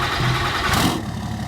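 Cummins diesel engine in a Ram pickup truck idling after a cold start in Farming Simulator 22, a steady low rumble that holds even for the whole moment, then drops slightly in level near the end.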